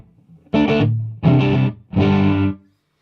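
A clean electric guitar with no effects plays three loud strummed chords in a row, each ringing for about half a second before it is cut off, then silence.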